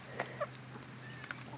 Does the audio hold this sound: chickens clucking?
yes